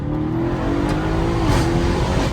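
An Audi RS7 fitted with downpipes accelerates hard from inside the car, its engine note climbing steadily under loud turbo spool and rushing induction, with no voices.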